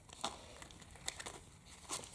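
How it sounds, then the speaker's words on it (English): Thick plastic zip bag with a small slider handled at close range, giving a few soft crinkling and rustling bursts spread across the moment, fairly quiet with no talking. "this is a thick plastic. It zips open with a little slider."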